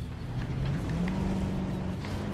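A ranger car driving in Jurassic World Evolution, a steady engine drone with a slight rise in pitch as it pushes uphill, continuous and fairly close, with no voices.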